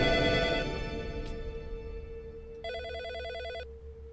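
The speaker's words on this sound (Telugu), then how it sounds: "ఆ ఫోన్ తీయవే." A telephone rings in a tense indoor film scene, one clear electronic trill burst standing out over a low background hum, close and with no voices.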